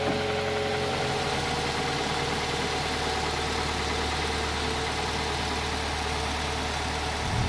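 A Mazda car engine idles steadily while cold, a low continuous rumble with a faint mechanical hum, close by and unchanging for the whole stretch.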